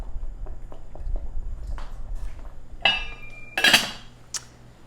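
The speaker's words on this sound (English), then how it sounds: "put the lid on." A lid set onto a cooking pot of black beans on a home stove, landing with a bright metallic clank and brief ringing after a few softer knocks and stirring sounds nearby.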